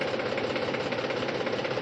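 A tractor engine idles steadily at low revs during power steering repair work, a continuous close rumble with an even knocking pulse and no voices.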